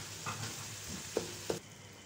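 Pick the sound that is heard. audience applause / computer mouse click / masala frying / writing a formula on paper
masala frying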